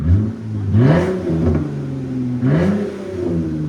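A RAM 3.6L V6 revs through a Dynomax Race Bullet muffler in two loud, close bursts, climbing and then falling back each time, with a raspy exhaust note and no voices over it.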